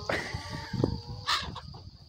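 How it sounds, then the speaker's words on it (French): Several chickens cluck and call over one another close by, a busy cluster of farmyard clucks with one louder squawk near the end. "Réunion de poules."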